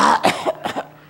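A person imitating coughing like someone first learning to smoke, giving a quick series of three or four short, harsh, breathy coughs in close succession, near and alone.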